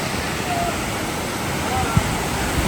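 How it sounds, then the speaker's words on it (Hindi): Manthoka waterfall near Skardu roars as a steady, broad rush of falling water heard up close, loud and unbroken, with some wind buffeting the microphone. "पहुंच आए हैं जी हम मंठोका वाटरफॉल पे और ये है उसका नज़ारा"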